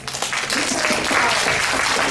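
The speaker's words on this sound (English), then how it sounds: "giving our discussants a big round of applause" Audience applause closing an academic parallel conference session, dense clapping from a roomful of people that swells quickly and holds steady throughout.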